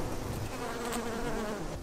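Honeybees hum around beehives in the countryside of Alsace, a dense, steady outdoor drone of many wings, close and continuous, with no speech.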